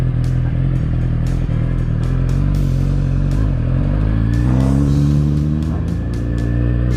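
A Suzuki GSX-R600 sport motorcycle with a dB killer in its exhaust idles with a deep, throbbing note, then revs up briefly and settles back, loud and close throughout.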